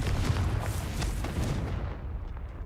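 A Confringo blasting spell explodes in Hogwarts Legacy, a loud rumbling burst of booming noise that rolls on for a couple of seconds and then fades, with no talking.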